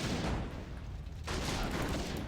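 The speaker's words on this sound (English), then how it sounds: "The fireworks protect the Griffins. Look at the barrage." Continuous fireworks barrage in a real-time strategy match, a dense roll of crackling bursts and booms that swells again after a brief dip, loud and sustained throughout.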